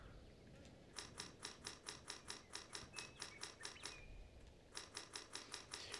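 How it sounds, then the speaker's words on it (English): Rapid, evenly spaced plastic clicks as the square button on a game controller is mashed repeatedly, in two bursts separated by a short pause, close but quiet. "That clicking sound is the sound of me mashing the square button"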